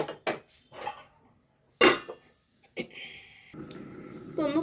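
A metal lid is set onto a pot of simmering pumpkin and chana dal curry, giving a sharp clatter and a few lighter clinks of metal cookware, close by in a quiet kitchen with no talk.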